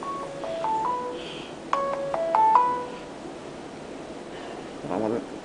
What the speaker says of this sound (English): Whoever's calling me has to wait.